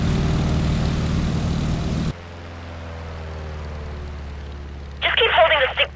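Stearman biplane's propeller engine in the Microsoft Flight video game, a steady droning hum that shifts in tone as the plane pulls into a climb, followed by a voice speaking over it.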